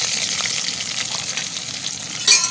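Five cut green chillies dropped into hot oil in a pan, a steady bright sizzle and crackle of frying that holds throughout with a sharper spattering burst near the end, close and loud.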